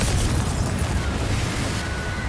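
A Confringo spell explodes in a Harry Potter video game on PS4, a loud, dense blast of rumbling noise that fills the whole stretch without any spoken voice.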